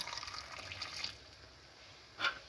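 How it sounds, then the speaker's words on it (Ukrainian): Boiling water is poured over plum tomatoes packed in jars for sugar-free home canning. A soft, brief pouring hiss fades into quiet, and a small clink sounds near the end. "Так, все заливаємо кип'яточком."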